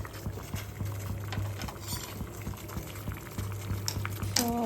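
Water boiling in a pot on a home stove while dog food is cooked, a soft steady bubbling and rolling simmer at low level, with a brief clink near the end.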